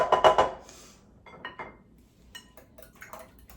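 Chickpea salad tossed in a bowl, a burst of clattering at the start followed by softer scattered clinks and wet shuffles, close and moderately loud.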